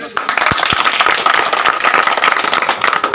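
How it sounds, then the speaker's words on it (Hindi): Loud, continuous applause from a crowd, dense clapping throughout with a couple of sharper thumps near the start. "एक बार जोरदार तालियों से"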